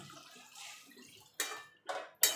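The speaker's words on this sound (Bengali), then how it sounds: "এবার আমি জল দিয়ে দেবো" Water poured into a pan of fried spices for a soybean and potato curry, coming in three short splashing bursts after a quiet stretch of faint kitchen noise.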